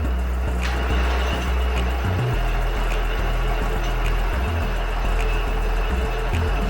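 A LeBlonde 17 metal lathe runs under power feed in coarse-on-fine gear, carriage travelling toward the tailstock, with a loud, steady mechanical hum and low drone and occasional small shifts in tone. No one speaks.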